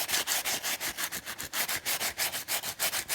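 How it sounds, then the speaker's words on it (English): Abrasive rubbing down the inside of a Japanese bowl under repair, a quick rhythmic back-and-forth scratching at about four strokes per second, close and fairly quiet, with no talk. "Just rubbing down."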